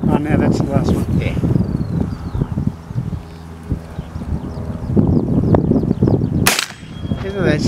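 A .44 Magnum lever-action rifle fired outdoors: one sharp, loud report near the end, with people chatting casually throughout.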